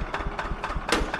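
An old, hard-worked Lamborghini tractor engine idles close by with a steady pulsing knock at roughly five beats a second, a little rough and uneven, with no voices over it.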